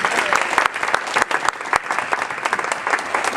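An audience at a church weight-loss testimony gathering applauds in a sustained burst of dense clapping from the crowd, steady and fairly loud throughout.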